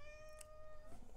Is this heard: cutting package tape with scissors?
no